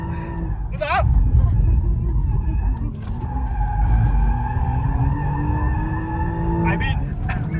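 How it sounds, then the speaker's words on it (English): An Audi RS5 slides sideways with tires skidding and squealing under a droning engine, several sharp squeal bursts rising over the steady roar, with people talking over it. "you can get this car to go sideways"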